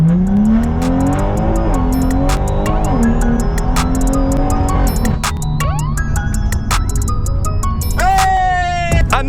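A rear-wheel-drive BMW 140i accelerates hard from a launch toward 60 mph, engine revving up through rising pitches with brief gear-change dips and some tire noise, loud and close from inside the car, with voices talking over it.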